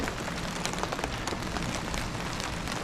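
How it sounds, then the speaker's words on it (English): Steady rain falls outdoors beside a vehicle fitted with a roof rack, a dense, even patter of drops spread across the whole clip with scattered brighter taps, no voices present. "It's a shame that it's raining."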